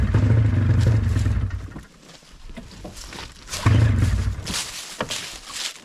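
A two-stroke snowmobile engine that sat ten years in a storage container, heard close in two raspy bursts of revving with a lull between them, rough and uneven.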